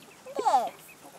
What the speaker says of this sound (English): Is he a good chicken?